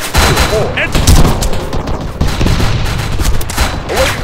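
Loud rapid gunfire from the military video game Arma 3, with overlapping bursts of automatic fire and distant booms, while voices call out over the shooting.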